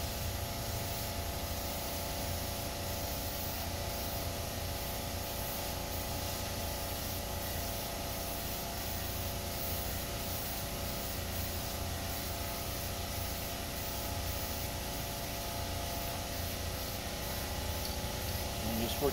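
A deck umbrella being spray painted in light, thin coats; a continuous hiss of aerosol spray that runs steadily for the whole stretch, close and moderately loud.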